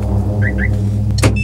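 A car's remote lock sounds two quick rising electronic chirps over a steady engine hum, followed by a sharp mechanical clunk, close and clear.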